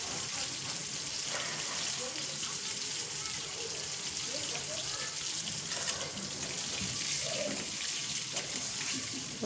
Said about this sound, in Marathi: सगळ्याचे करून सर्व कारले मी टाकून घेतलेले आहे तेलामध्ये.